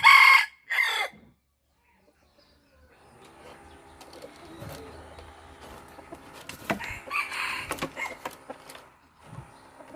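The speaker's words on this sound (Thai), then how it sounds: "เป็นไก่ที่หูขาว" A purebred Thai white-eared rooster crows loudly and close by at the very start, two bursts in quick succession, followed by quieter farmyard ambience and scattered faint bird sounds.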